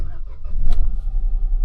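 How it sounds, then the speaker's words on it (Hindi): A car engine turning over and catching, then settling into a low, steady idle rumble heard up close, with a brief higher burst as it fires. "अब गाड़ी स्टार्ट हो गई।"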